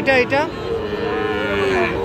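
A Sahiwal bull calf, about eight months old, moos loudly and close by, one long drawn-out low call with a rougher start.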